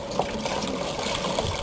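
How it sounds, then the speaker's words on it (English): Coolant poured into the radiator of a 1965 Ford Mustang GT, a steady close liquid trickle and splash running continuously with small gurgling bursts, no talking. "I know if I try to pour this directly in"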